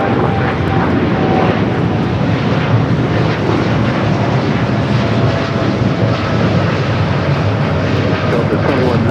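A Southwest airliner rolls for takeoff on runway 24 left at Los Angeles airport, a loud sustained jet roar filling the whole stretch at close range, while a voice speaks briefly over it.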